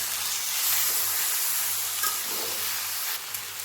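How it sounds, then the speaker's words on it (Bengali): Papaya is stirred in a hot pan with cumin powder and a splash of water, making a loud, dense, unbroken sizzling hiss close by, with a faint low hum beneath and no talk. "এবার জিরের গুঁড়োটাকে আমি পেঁপের মধ্যে খুব ভালো মতো মিশিয়ে নিচ্ছি।"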